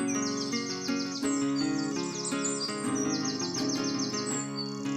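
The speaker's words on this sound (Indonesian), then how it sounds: "suara riang burung-burung membuat suasana menjadi damai" Birds chirp and twitter in a forest with tall trees, a lively overlapping chorus of quick repeated tweets that runs steadily throughout with no one talking.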